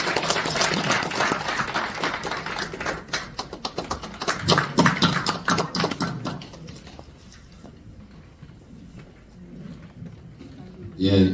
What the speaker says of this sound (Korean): 큰 박수로 맞아주시면 고맙겠습니다